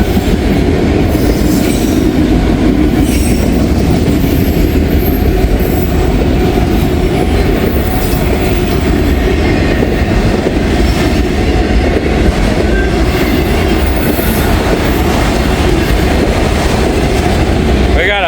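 Full auto rack freight train rolling past in Wyoming, a loud, close, continuous rumble of wheels with clickety-clack and occasional squealing throughout, a brief high screech at the end.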